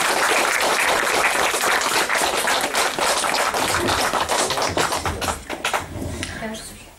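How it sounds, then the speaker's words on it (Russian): Loud, enthusiastic applause from a large crowd at a graduation ceremony fills the room, then thins into scattered claps and fades as a voice begins. "Давайте тоже встретим ее бурными аплодисментами."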